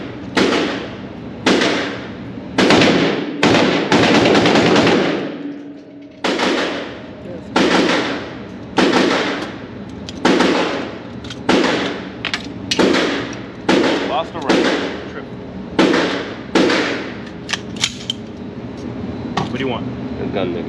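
Gunfire during a shooting lesson: a long run of loud, close shots, some in quick pairs and bursts, echoing at a range, with voices talking between the reports.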